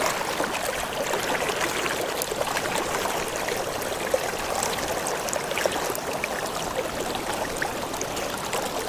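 A river flows steadily nearby, a broad even wash of running water with faint trickling detail, continuous and unbroken with no one talking.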